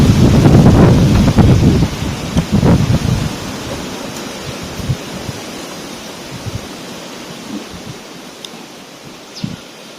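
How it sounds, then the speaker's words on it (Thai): Strong wind buffets an outdoor morning scene, loud rumbling gusts at first that ease into a steady softer rush with faint scattered knocks, no talking. "โอ้ลม"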